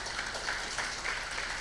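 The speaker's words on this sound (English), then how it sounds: "A big round of applause, please." Applause from a conference audience at an education event in India, a steady, fairly quiet wash of clapping that holds evenly throughout without voices on top.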